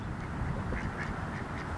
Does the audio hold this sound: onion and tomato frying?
no